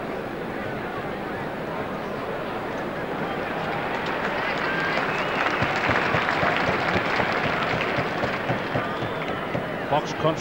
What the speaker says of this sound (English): Applause for Wetton as he comes back on the field.